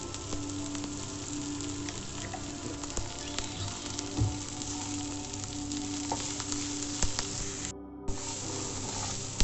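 Vegetables and lengthwise-chopped green chilies fry with a constant hiss and crackle in a pan, stirred now and then with soft scrapes, and no one speaking.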